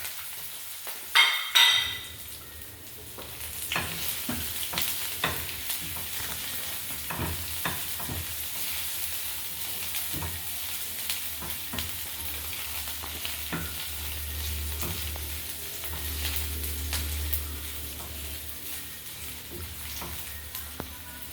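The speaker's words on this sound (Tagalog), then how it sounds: "naglagay na po ng onion, then the garlic. Gisa-gisa lang naman." Onion and garlic sauté in a pan before corned beef goes in, a continuous moderate sizzle with occasional stirring clinks and scrapes after a sharp clatter at the start.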